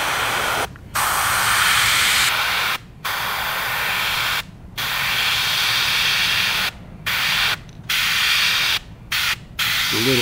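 An airbrush sprays orange paint onto a brassy minnow fishing lure in close, steady hissing bursts of about a second or two each, separated by short silent gaps.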